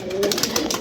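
Pigeons kept by a Pattiwala fancier coo softly and close by in a brief, warbling stretch over a rough background.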